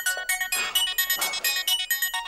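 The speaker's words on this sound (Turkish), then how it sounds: "Aa telefon." A telephone ringtone goes off in a Turkish TV comedy scene, a rapid repeating pattern of bright electronic melodic beeps in short even bursts, fairly quiet and heard alone without talk.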